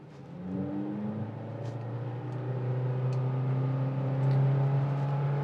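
A Honda Amaze with a CVT automatic transmission revs hard under heavy throttle, its engine drone steady and rising in pitch as it holds high revs, loud and continuous from inside the cabin.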